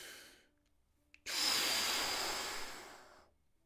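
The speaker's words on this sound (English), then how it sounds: "blow up that balloon as smoothly and as much as you can on one breath. Let the air out and do it again. Deep breath in." A single deep breath drawn in and then a long, steady exhale blown into a balloon, loud and close, with a short quiet inhale before it and no talking.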